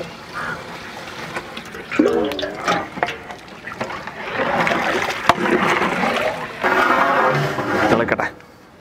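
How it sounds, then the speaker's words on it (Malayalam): Water is poured into a cooking pot for rice, splashing and trickling in bursts, with a person talking over much of the pouring. "കുറച്ച് വെള്ളം ഒഴിക്കാം,"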